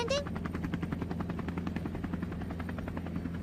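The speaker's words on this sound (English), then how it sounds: "what I hear a helicopter landing?" A helicopter landing, with a steady, fast rotor chop pulsing throughout at moderate loudness after a brief high tone at the start.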